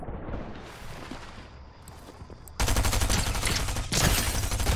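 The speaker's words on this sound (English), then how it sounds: "Oh, someone's shooting at me" Dense bursts of automatic gunfire in Fortnite, starting abruptly partway through and continuing loud and sustained with a brief dip, preceded by quieter game ambience.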